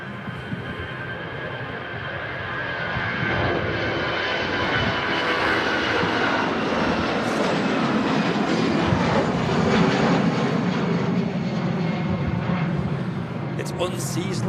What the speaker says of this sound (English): CFM 56 engines making a right buzz there